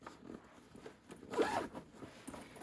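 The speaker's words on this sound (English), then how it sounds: "And so if you don't want to open it this way to access everything, you can zip it up." A zipper on a carry-on travel backpack is pulled closed in several quick, close rasping strokes, with a louder zip near the middle.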